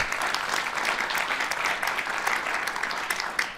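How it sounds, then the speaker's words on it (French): Sustained audience applause fills a round-table discussion on aeronautical construction and maintenance careers, a steady dense clapping at close range that barely varies for several seconds. "On peut applaudir Delphine Bazot."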